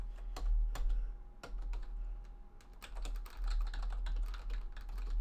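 Computer keyboard keys clatter in uneven bursts during a late-night coding session, a steady run of close, crisp clicks and taps with brief pauses, over a low background hum.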